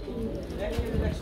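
Black nun pigeon cooing in a pigeon sale setting, low soft coos heard briefly with someone talking over them.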